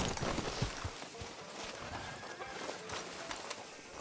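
Horse hooves in Red Dead Redemption 2, a western-frontier game: a steady clip-clop of hoofbeats on a dirt road, faint and mixed under ambient town noise and a talking voice.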